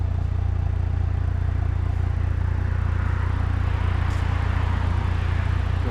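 A B9 Audi S5 with a catless downpipe, front resonator delete and mid muffler delete idles in comfort mode, giving a steady, even low drone and hum heard alone.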